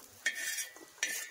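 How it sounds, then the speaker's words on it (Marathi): Garlic being lightly roasted and stirred in a pan, with two soft scraping stirs of a utensil against the pan over a quiet background. "आणि लसूण एकदम मी हलकं भाजून घेणार आहे, हलकं, जास्तीचं नाही, फक्त वर खाली करून घेणार"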